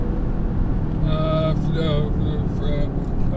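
A hybrid petrol-electric car accelerating with its gearbox in sports mode: a steady, fairly loud engine and road drone fills the cabin throughout, with a voice talking over it.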